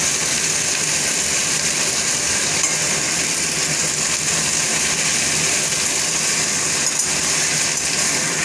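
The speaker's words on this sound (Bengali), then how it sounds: "আমি একটু ভাজা ভাজা করে নেবো শাকটা," Leafy greens frying in a pan, being cooked until crisp before lentils go in, give a loud, steady sizzle with faint stirring scrapes throughout.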